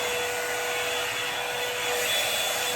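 A blow dryer drying a wig runs as a steady, loud whooshing hum with a constant motor whine.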